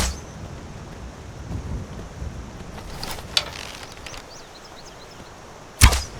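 Vanilla Skyrim bow and arrow shot in the video game, a quiet whooshing draw and release followed later by a sharp, loud arrow impact thud, set against soft outdoor ambience with wind and faint rain-like hiss.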